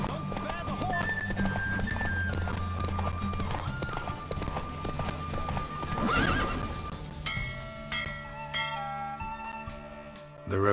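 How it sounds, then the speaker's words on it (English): Horse hooves clip-clop at a steady gallop during a horse race in The Witcher 3: Wild Hunt, with neighs and whinnies over game music while a voice talks over it. "Giddy up. Don't spare the horse."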